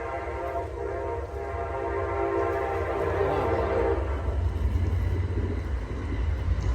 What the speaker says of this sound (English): Sorry, guys, there's an Amtrak.